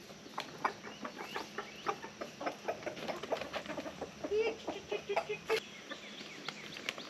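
Several chickens cluck and chatter nearby in a steady, uneven rhythm of short, soft calls while being given black soldier fly larva treats.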